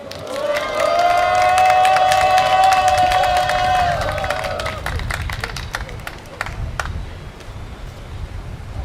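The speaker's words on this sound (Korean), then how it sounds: "윤새벽별 청년 앞으로 모실 때 큰 박수로 맞아주시기 바랍니다" At an outdoor rally on Busan City Hall plaza protesting the forced repatriation of North Korean defectors, a crowd claps and cheers loudly. A sustained tonal whistle-like sound rises over the first few seconds, then the applause thins to scattered claps and murmur.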